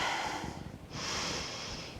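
Breathing during a standing yoga pose, heard as a soft airy inhale and a second, brighter breath, close to the microphone and quiet, with no talking over it.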